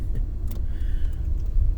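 Cars passing along a busy street, a continuous low road rumble with swelling engine noise as vehicles go by fairly close, with no voices over it.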